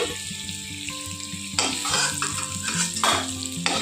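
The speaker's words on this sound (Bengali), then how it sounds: "পনিরগুলোকে ভেজে নেব।" Paneer cubes fry in hot oil in a pan, a steady loud sizzle with bursts of stirring and the clatter of a spatula against the metal, while faint music plays underneath.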